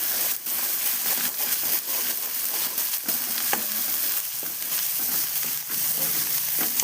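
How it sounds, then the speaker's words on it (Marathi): Red chili powder sizzles in hot oil as an egg curry is started, a steady close crackling hiss with scattered pops and scraping stir sounds throughout, no voices. "काय घमघम वाजत ती."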